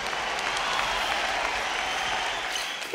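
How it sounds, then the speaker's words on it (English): Loud, continuous applause from a large crowd at a live children's musical stage show forms a dense, even wash of clapping. It holds steady throughout with no talk over it. "Let's give ourselves a round of applause."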